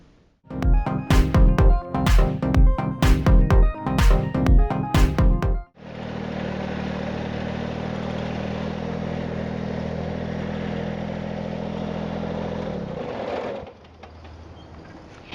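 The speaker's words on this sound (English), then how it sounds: "First, we have the small tow tractor like the one I'm on." A small motorized tow tractor inside a distribution center, first several rhythmic mechanical clacks, then a steady loud engine drone that holds for several seconds before cutting down, heard close with no speech.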